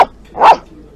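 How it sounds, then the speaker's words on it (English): A dog barks once at an outdoor coffee shop by a park, a single loud, close bark in the middle of a short stretch, with another brief yelp-like sound at the very start. "Don't bark so loud, Fido."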